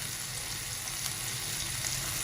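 Flour roasting in a pan with spices, giving a steady, even sizzle and faint crackle that runs throughout at close range.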